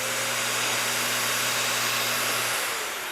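Hart 3-in-1 wet/dry shampoo vac switched on, a loud, steady motor whine and airy roar that runs unbroken and eases slightly at the end.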